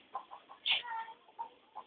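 A large backyard chicken gives a few short, close clucks in an irregular rhythm, with one sharper squawk among them.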